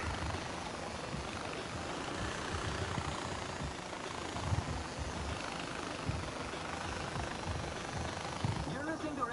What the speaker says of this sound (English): we might as well take advantage of having this chopper